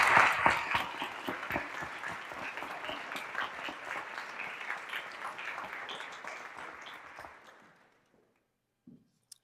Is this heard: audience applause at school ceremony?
yes